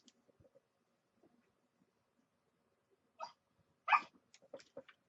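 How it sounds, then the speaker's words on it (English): A puppy lets out a few short, sharp yips and barks close by in a quiet room, starting with a single bark and ending in a quick cluster, after faint earlier rustling. "Now I have a puppy who interrupts."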